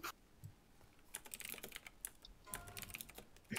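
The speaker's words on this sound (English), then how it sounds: "I don't know why I'm typing." Keys clatter on a computer keyboard in irregular bursts of quick taps, close and fairly quiet, with short pauses between flurries.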